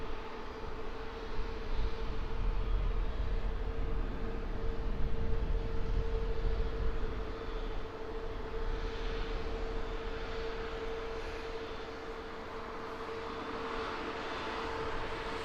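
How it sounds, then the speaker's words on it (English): A United Airlines Boeing 777-200ER arriving from Washington on approach to Heathrow makes a steady, moderately loud engine rumble and rushing drone with a constant hum, holding for about fifteen seconds without fading much. "On approach, United Airlines Flight 918 in from Washington."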